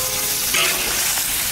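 Duck and water bamboo shoots stir-frying in a wok, a loud, close, dense sizzle that holds steady throughout with a brief swell midway.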